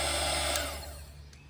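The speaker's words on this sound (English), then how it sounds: "just going to give it a bit of a hit with my little heat gun" Small heat gun blowing hot air over poured resin outdoors to pop bubbles, a steady close whooshing hiss that slowly fades, with no talking.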